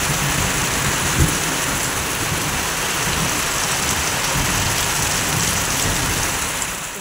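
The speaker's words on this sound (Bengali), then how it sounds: "আকাশে ডাকতেছেও, ভালো বৃষ্টি হইতেছে" Heavy downpour drumming steadily on surfaces, loud and continuous throughout, with a brief low rumble of thunder early on and no voices.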